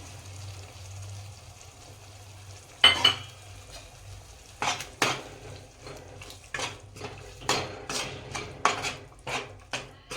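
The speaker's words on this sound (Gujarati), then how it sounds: "હવે આપણે 2 ટામેટાની પ્યુરી નાખી દઈશું." Tomato puree from two tomatoes hits a hot pan of paneer masala, followed by a string of close stirring scrapes and sizzling bursts, each separate, with no talking.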